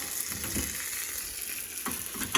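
Soy sauce fish frying in a pan over a fire, a steady close sizzle with crackling spits and a few sharper pops near the end.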